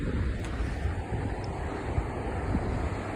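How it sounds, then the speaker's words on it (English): Ocean waves and gusty wind on a morning beach walk, a constant rushing surf blended with buffeting microphone wind noise, steady and fairly loud throughout. "Sounds from the ocean"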